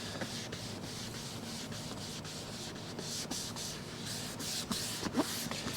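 A sponge rubs Zirconite leather protector into a car's leather upholstery, giving a steady soft scrubbing rasp with repeated strokes, close and continuous.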